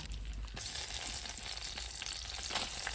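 Kashmiri chillies frying in hot oil, a steady, loud, continuous sizzle and crackle throughout with no voices.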